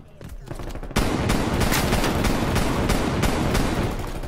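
Rapid automatic gunfire in a Black Ops Cold War Gun Game match, close and loud, starting with a few sparse shots and then a near-continuous burst rattling on through the rest of the stretch.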